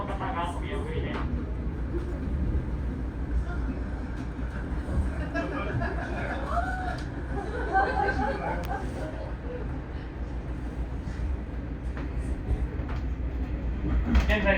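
A Japanese train, the Setsugekka Express, rumbles steadily along the rails through a tilting section with a low, continuous roar and occasional clicks, while a voice makes an announcement over it.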